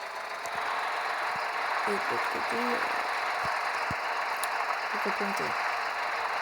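A tractor engine in the farming game Farming Simulator 2014 drones steadily and evenly throughout, a constant broad hum beneath someone speaking French.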